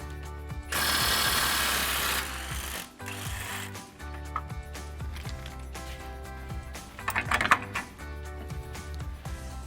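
Power tool or impact wrench on an 18mm socket loosening the upper shock bolt of a Jeep Gladiator JT, one loud sustained burst near the start followed by rattling, clanking mechanical work.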